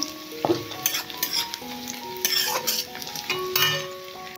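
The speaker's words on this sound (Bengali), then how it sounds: "পেঁয়াজটা খুব সুন্দর লাল লালভাবে ভাজা হয়ে গেছে।" Onions frying in oil for a duck curry while being stirred with a utensil, steady sizzle broken by repeated scraping and clinking strokes against the pan, close and fairly loud with no talking.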